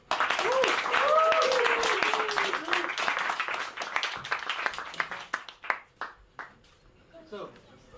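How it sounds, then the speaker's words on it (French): Loud applause from an audience at a French crypto-themed stage show, dense clapping filling the first half before thinning into scattered claps as a voice speaks over the tail. "On applaudit bien fort, Didi."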